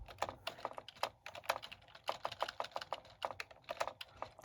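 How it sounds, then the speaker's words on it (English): Rapid clicking and clacking of keys on a very old computer keyboard, fast uneven typing bursts close up and fairly faint, with no talk. "I'm using a really old keyboard based upon all the clicking and clacking sounds"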